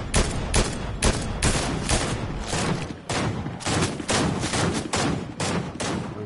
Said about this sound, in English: Where's this guy shooting from?